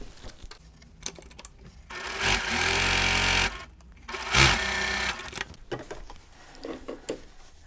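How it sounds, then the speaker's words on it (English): Sewing machine stitching pieced fabric for a Christmas quilt block, two loud steady runs of whirring stitching close up, separated by short handling clicks and fabric shuffling. "I'm going to stitch them one to each side of the walls."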